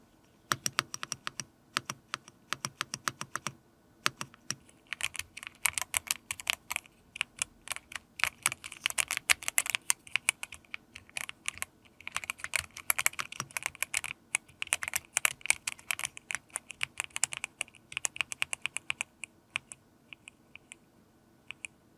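Fast, steady typing on a Yunzii B75 Pro Max mechanical keyboard, a dense run of sharp close key clacks with brief pauses, no voices.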